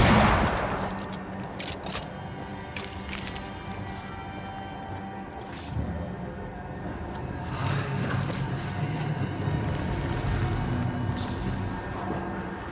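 Gunfire rattles in the video game Banishers, a dense spread of shots and impacts over a busy in-game background, fairly distant and mixed with ambient effects.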